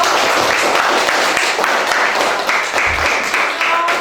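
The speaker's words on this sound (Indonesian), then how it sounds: "kita beri aplaus dulu untuk Aldo" Students in a classroom applaud a classmate named Aldo after his summary. The steady, fairly loud clapping lasts about four seconds with no pause.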